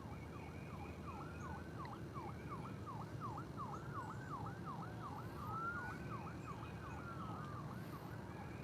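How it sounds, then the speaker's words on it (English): Wailing emergency sirens rise and fall in rapid, overlapping yelps, heard from a distance over a low, steady background rumble. "I hear a lot of sirens"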